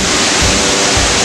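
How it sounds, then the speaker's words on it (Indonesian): Riam Berasap waterfall in Sajingan Besar, roughly 20-60 meters tall, roars in a loud, steady broadband rush of falling water with no pauses, close and enveloping. "kita sampai juga di air terjun Riam Berasap di Kecamatan Sajingan Besar"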